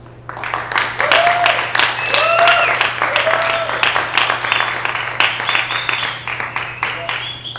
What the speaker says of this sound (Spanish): Bueno, un aplauso para 2015